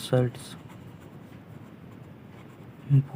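An equation is handwritten on a board, giving a steady scratchy stroke sound between short bursts of speech at the start and end.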